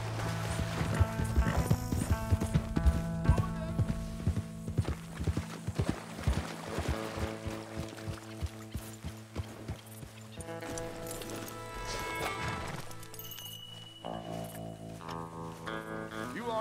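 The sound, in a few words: horse hooves galloping in video game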